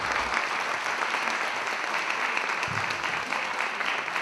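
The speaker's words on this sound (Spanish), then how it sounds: "voy a pedir un fuerte aplauso para él" Steady audience applause for Enrique Caride at an opera guided-tour evening on Pagliacci, a dense, even patter of many hands filling the room for about four seconds.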